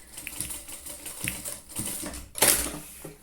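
A sewing machine runs in short bursts while stitching across the zipper ends of a trapezoid pencil case, with a brief louder clatter near the end and no talking.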